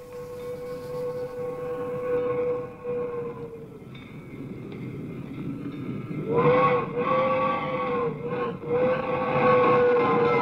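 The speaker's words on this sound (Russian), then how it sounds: "Поезд заглушил звук выстрела." A passing train in a film sounds long, loud whistle blasts with a rumbling undertone, the sustained tones rising again midway and drowning out everything else.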